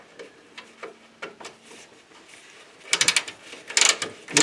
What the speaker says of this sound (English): These little wrenches are great. These ratcheting wrenches.